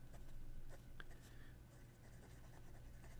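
A Hongdian N9 fountain pen writing on paper gives soft, intermittent scratchy strokes, faint and close, with short pauses between marks and quiet background noise.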